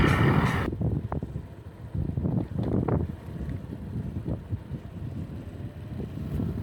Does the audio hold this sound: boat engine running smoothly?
yes